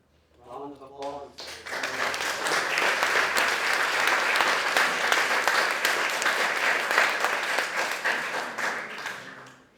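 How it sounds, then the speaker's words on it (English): A conference audience breaks into sustained, dense applause after a talk ends, rising quickly after a brief spoken moment at the start and holding loud and full for several seconds before tapering slightly. "And if not, round of applause."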